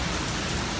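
Heavy rain pours in a dense, continuous broadband rush, loud and close with no gaps or voices over a brief moment.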